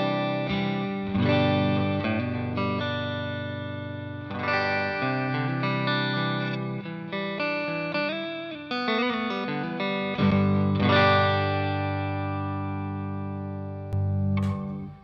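A distorted electric guitar through a Greer Lightspeed Organic Overdrive pedal plays thick, sustained chords and riffs with a gritty, saturated tone, loud and continuous with brief pauses between phrases.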